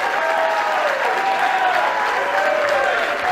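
A crowd claps and cheers steadily at a political victory speech, with loud, continuous applause and some faint voices mixed in.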